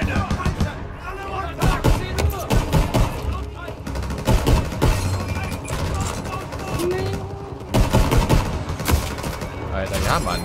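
Gunfire in the video game Call of Duty WW2, a dense wartime battle of repeated shots and bursts that run continuously under steady voice talk, with a brief rising whine partway through.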